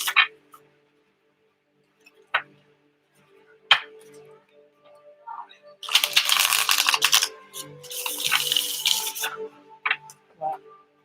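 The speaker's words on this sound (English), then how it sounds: "I like the way these cards shuffle." A deck of cards is shuffled up close, scattered crisp riffles and taps followed by a dense flurry of rapid card ruffling lasting a few seconds, fairly faint overall.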